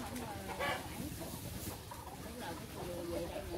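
Chickens cluck in a farm coop while grain is scattered for them, soft, scattered calls over a quiet background with a voice talking faintly.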